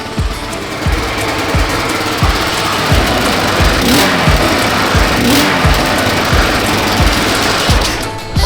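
A Honda XR600R motorcycle engine runs on a bench at a loud, close idle, with a rattling, clattering mechanical texture from loose bench bolts and regular low thumps throughout.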